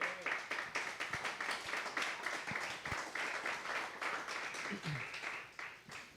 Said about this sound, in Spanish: Denle fuertes palmas.